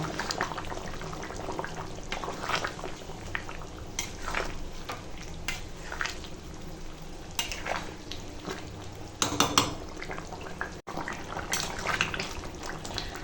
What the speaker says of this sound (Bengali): এখন মাংসটা ফুটছে আর সব সিদ্ধ হয়ে গেছে